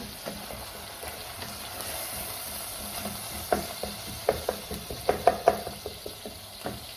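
Chopped onions frying in a pan for Sudanese fesikh, a steady low sizzle under a series of sharp knocks and scrapes of a utensil stirring, growing busier toward the end.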